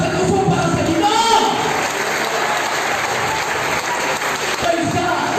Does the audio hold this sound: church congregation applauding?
yes